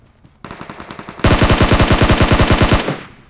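Loud, close automatic gunfire in the mobile game PUBG Mobile: a rapid burst of shots, then a denser, louder sustained string of rapid-fire shots that cuts off abruptly.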